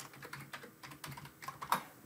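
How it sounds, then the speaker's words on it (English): Rapid keystrokes on a computer keyboard, a burst of irregular close clicks and taps with one slightly louder strike near the end, heard alone without any voices. "So let me go back up here and type in"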